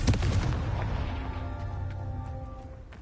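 A Confringo blast spell explodes in Hogwarts Legacy, opening with a loud booming burst that decays into a ringing, tonal tail with faint crackles over a few seconds.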